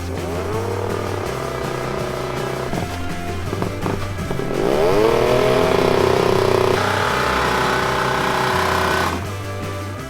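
A high-revving Polish racing motorcycle engine drones loudly and steadily, the pitch swelling and dropping as the throttle is worked, with no talking.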